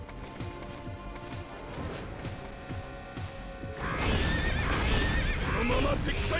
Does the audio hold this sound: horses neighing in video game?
yes